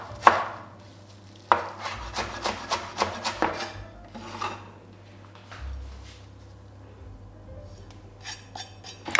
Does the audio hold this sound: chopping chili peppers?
yes